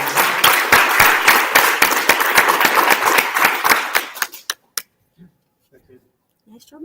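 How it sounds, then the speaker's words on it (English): An audience at a startup demo day claps loudly and densely for about four seconds before the applause thins and stops, leaving quiet with a few faint sounds afterwards. "So everybody give David a round of applause."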